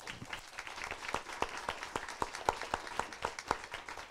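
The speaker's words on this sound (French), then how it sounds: "On peut vous applaudir." An audience at a conference round table breaks into applause, a moderate crowd of hands clapping in a fairly regular rhythm that holds steady for several seconds, with a faint murmur of voices underneath.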